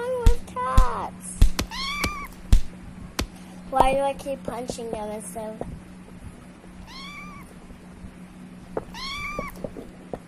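Several Minecraft cats meow repeatedly in bursts, loud and close, with someone talking excitedly over and between the calls.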